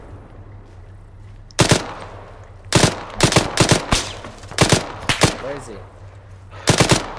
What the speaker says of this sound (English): Why did they shoot us?